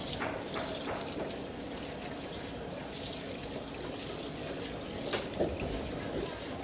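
Tap water runs steadily into a sink as fruit or tea ingredients are rinsed in a bubble tea shop, a continuous wash of splashing with faint voices under it.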